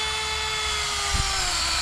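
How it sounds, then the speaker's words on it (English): Power drill boring a hole in a hoop house frame, a steady high-pitched motor whine whose pitch sags slightly as the bit loads up, with a brief thump partway through. "I'll drill a hole."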